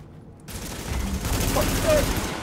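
Rapid automatic gunfire in The Division during a Manhunt match, a dense sustained fusillade of shots that builds in loudness over a couple of seconds, with background game noise.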